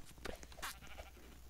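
A sheep in a Roblox game bleating briefly, a short nasal cry heard faintly among clicks and other game noises.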